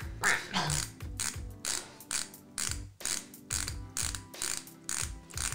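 Repeated ratcheting clicks from a non-retractable makeup product being twisted up, a steady train of crisp mechanical clicks in regular bursts with a squeaky, duck-like creak, close and clear with no talking.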